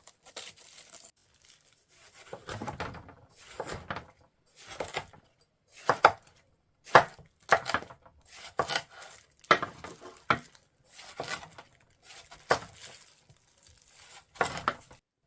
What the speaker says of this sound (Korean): 수박 껍질을 떼어내 줍니다. 그리고 잘라줍니다.